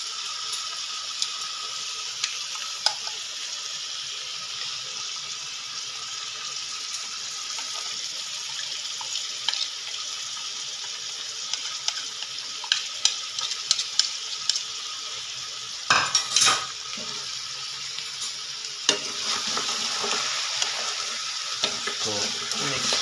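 Tomatoes cooking with salt in a pot for a bade paye dish, sizzling steadily as a spoon stirs and scrapes with intermittent clinks, a brief louder clatter midway, no talking.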